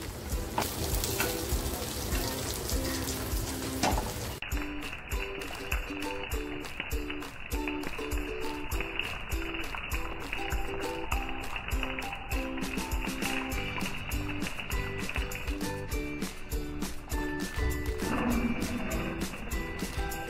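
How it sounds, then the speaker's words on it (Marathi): Fried prawns tipped into a pan of spicy masala for a Marathi-style prawn masala, with a steady, broadband sizzle that grows dense and loud once they hit the hot oil, continuing unbroken to the end. "आता जी कोळंबी फ्राय केलेली आहे ना, ती कोळंबी मी याच्यात टाकते आहे।"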